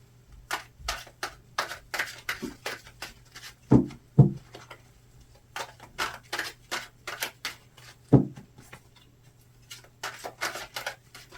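Playing cards riffle-shuffled repeatedly in quick bursts of crisp, close flutters, with a few sharper taps between, and no talking.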